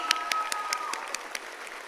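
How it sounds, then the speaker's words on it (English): Sparse, fairly faint applause at a school of health professions commencement ceremony, a handful of separate distinct claps spaced out over a couple of seconds, with a faint tone running beneath. "Give him a round of applause."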